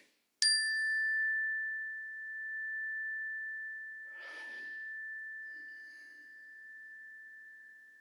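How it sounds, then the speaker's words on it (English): A meditation bell is struck once, its bright attack settling into a pure, steady ring that sustains for several seconds, with a soft breath or rustle partway through. "So I'm going to ring the bell 3 times."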